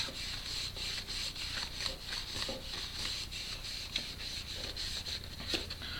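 Gun oil and conditioner being rubbed onto leather by hand, a steady soft swishing and scrubbing in close, repeated back-and-forth strokes with no voices.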